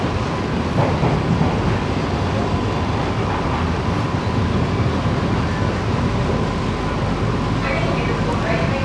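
Chennai air-conditioned EMU slow local train running, a steady loud rumble of wheels and carriage noise throughout with people talking over it.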